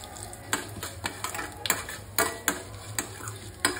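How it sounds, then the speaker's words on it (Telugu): Tempering spices frying in hot oil with curry leaves and a pinch of asafoetida, while preparing a ridge gourd curry; a soft sizzle runs under repeated sharp stirring clicks and scrapes of a spoon against the pan. "ఈ పోపు బాగా వేగిన తర్వాత"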